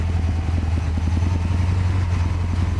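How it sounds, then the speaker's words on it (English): A Porsche 928 engine struggling to idle, a low, close, rumbling tick-over with an uneven pulsing beat, steady and loud with no voices. "Struggling to tick over a little bit. I just lift the RPM up a little bit."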